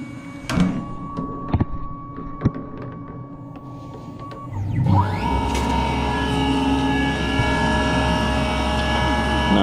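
An MR-1 machine starts a chamfer program while cutting a jig, a broad steady mechanical hum and whine rising after a few quiet seconds of small clicks and knocks, then running continuously and fairly loud.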